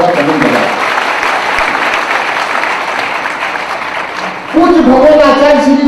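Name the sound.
audience applause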